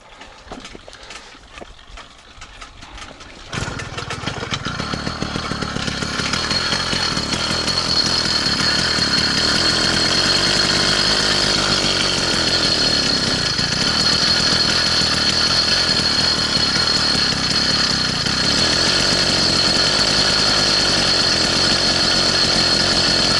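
Small engine of an all-terrain bike running just after a choke start, rising from quiet clicks into a loud, steady, buzzing idle that holds throughout.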